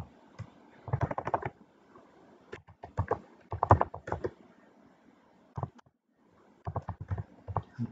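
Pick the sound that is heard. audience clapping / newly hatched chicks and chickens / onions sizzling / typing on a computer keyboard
typing on a computer keyboard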